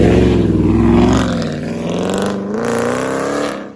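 A Scat Pack muscle car in track mode accelerates hard from inside the cabin, its engine roaring loud with rising pitch through the revs and a brief dip as it shifts.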